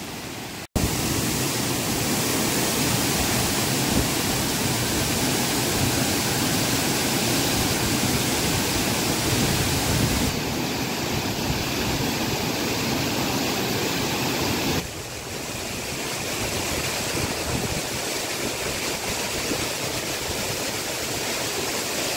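Vyaghreshwar waterfall in the Konkan roars in its full monsoon form during a May downpour, a dense, steady wash of falling water from about 100 feet that holds loud and unbroken throughout.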